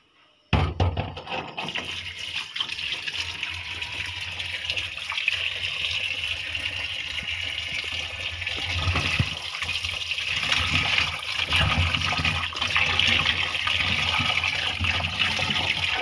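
Cut sweet pumpkin pieces being washed in water, with a steady stream of running, splashing water and occasional knocks against the bowl continuing throughout, close and moderately loud, with no talking.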